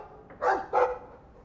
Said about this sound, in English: I da puppy, hi puppy. I like the doggy.